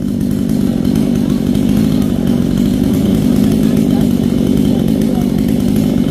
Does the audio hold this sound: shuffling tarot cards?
no